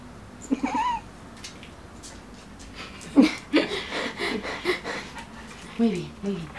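Kittens meow in thin, high, wavering cries, several short calls spread across the clip, close by and mixed with soft breathy sounds as someone talks over them.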